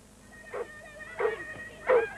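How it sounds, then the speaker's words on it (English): Three short, separate barks or yelps from a lurcher, a lean greyhound and collie crossbreed, fairly close and spaced about two-thirds of a second apart over faint background noise. "Their dogs, the lurchers, symbolise as nothing else the essence of their way of life"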